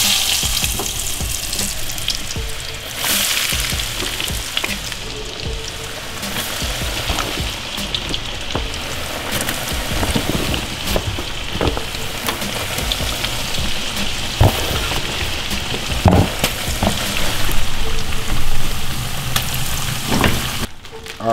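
Battered fish for fish and chip tacos fries in hot oil with a loud, dense, rain-like crackle and sizzle that runs continuously and swells slightly toward the end.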